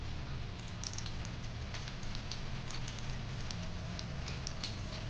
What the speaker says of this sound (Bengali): হালকা হালকা করে ভেজে নেব।